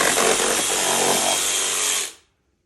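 A DeWalt power saw cuts through deer ribs from a roughly three-year-old doe, giving a loud, steady, buzzing whine. It runs continuously for about two seconds, then stops abruptly, leaving silence.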